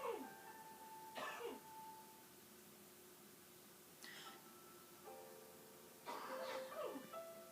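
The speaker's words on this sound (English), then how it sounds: "my mom's coughing and she can't stop" Several bursts of coughing from a woman in the background, spaced apart with quiet gaps between, over a faint steady hum.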